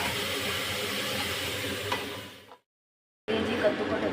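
Pumpkin cooking under a lid in a pan, giving a soft steady sizzle and hiss that fades out, a brief silence, then the gentle sizzle resumes.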